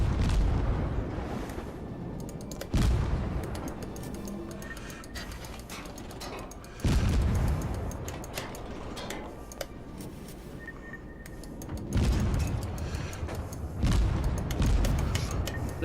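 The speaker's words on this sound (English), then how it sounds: "They're all shooting at me." In the World of Warships naval battle game, shells strike a warship in heavy booming impacts every few seconds over a constant mechanical clatter of the ship.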